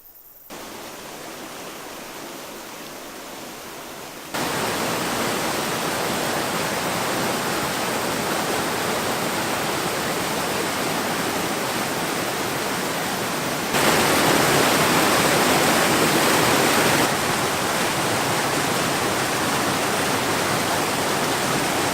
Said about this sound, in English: I'm here now with the waterfalls.